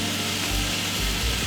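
Butter and Chinese mustard greens sizzle steadily in a pan, a loud continuous hiss with a few low bumps, no talk.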